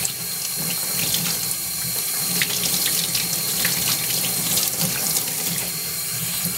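Tap water runs steadily into a sink, rinsing an etched copper circuit board, a continuous close splashing hiss with no voices.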